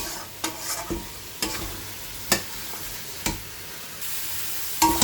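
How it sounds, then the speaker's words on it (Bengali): Spice paste with potatoes frying and being stirred in oil left over from frying fish for a fish curry, a steady sizzle broken by several sharp scraping stir strokes, close and alone. "আলুর সাথে কিন্তু মশলাটা আমার বেশ ভালো কষে গেছে"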